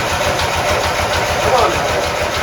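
A 1993 Craftsman lawnmower engine sputters and turns over with a steady, rapid pulsing close by, fairly loud, with a voice speaking over it.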